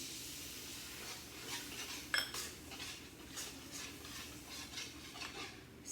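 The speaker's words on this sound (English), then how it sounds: "Then in goes a 1/2 cup of soy sauce." Half a cup of soy sauce hits a hot wok with a soft hiss, mixed with clinks and scrapes of a utensil stirring against the pan, fairly quiet and close.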